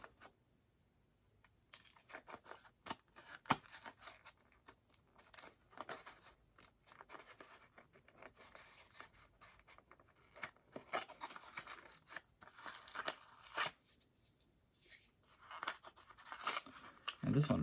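Plastic crinkles, tears and taps as a Subaru 1/64 scale model car is worked out of its blister card, faint scattered handling noises, with a person talking softly throughout.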